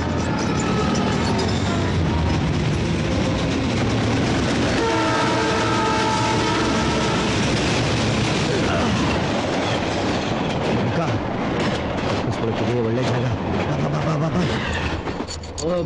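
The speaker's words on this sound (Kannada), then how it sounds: "ಲೇ ಟ್ರೈನ್ ಸೌಂಡ್ ಕೇಳ್ತಾ ಇದೆ ಅಲ್ವಾ?" A train rolls past close by with a steady heavy rumble and rhythmic wheel clatter, a sustained horn blast sounding in the middle, loud throughout with faint voices underneath.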